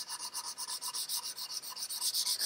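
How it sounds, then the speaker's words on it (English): Maple guitar wood being sanded with 220 grit sandpaper wrapped around a rubber eraser to remove excess color, giving quick, even back-and-forth scratchy strokes, close but fairly soft, with no talking. "I'm in the process right now of sanding off the excess color on the maple. And I'm using just some 220 grit sandpaper wrapped around a rubber eraser"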